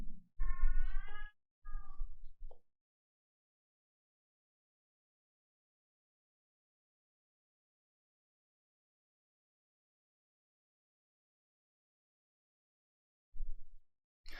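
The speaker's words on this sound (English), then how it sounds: "So if you can hear the cat in the background," Black cat Rogue meowing just after being fed, two or three close, plaintive meows in quick succession at the start, then a long silence before another short sound near the end.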